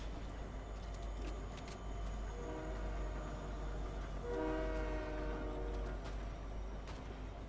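A train horn sounds in the Apex Legends video game, blowing twice in the middle distance over a steady rumble of in-game ambience, with no talking.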